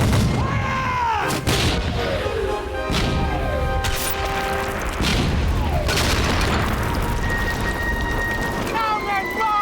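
Marines fire a musket volley aboard ship amid a dramatic battle scene, with sharp booming and crashing bursts over a loud, continuous roar, shouted voices and orchestral music.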